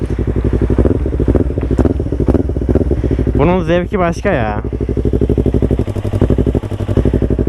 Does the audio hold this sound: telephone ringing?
no